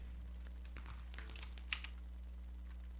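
Quiet typing on a computer keyboard, a few soft scattered key taps and one sharper click over a steady electrical hum, faint and close.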